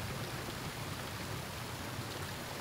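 A waterfall in the video game Never Alone roars with a steady, dense rush of falling water, a constant full-band wash with no talk over it.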